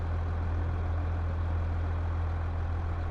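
Steady low diesel idle of a truck backing up in Farming Simulator 22, a constant deep engine hum with a strong low drone, loud and unchanging, no voices.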